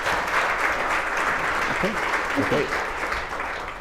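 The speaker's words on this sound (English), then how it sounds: "So let's give them a round of applause." An audience applauds three panelists at a talent acquisition and hiring panel, with steady clapping throughout and brief talk rising over it near the middle.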